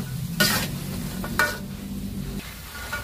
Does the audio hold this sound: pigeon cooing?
no